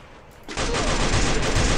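Dense, continuous gunfire from the Free Fire battle royale video game bursts in abruptly after a brief quiet start and keeps rattling loud and close to the end.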